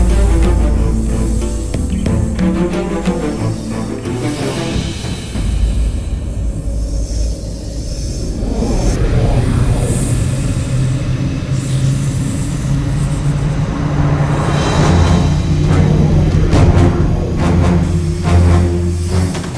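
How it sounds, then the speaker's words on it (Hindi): Mythic flying chariot Pushpak Vimana in a devotional war epic scene, rendered as a loud, sustained whooshing roar with rumbling low layers and rising shimmering swells, continuous throughout with no speech. "पुष्पक विमान,"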